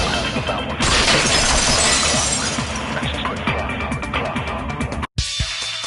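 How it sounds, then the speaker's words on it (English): A vase shatters as a sound effect in the video game Danganronpa 2: Goodbye Despair, a loud crash of breaking glassy pieces with scattered debris continuing for several seconds before a brief cutoff. "If it wasn't the window, then what broke to make that sound? A vase."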